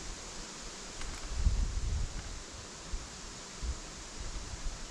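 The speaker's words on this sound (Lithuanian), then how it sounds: "Vėjas tai čiut ne medžius verčia." Strong wind pushes through trees in a constant, broad rustling roar, with a few louder gusts swelling and fading; no voices are heard.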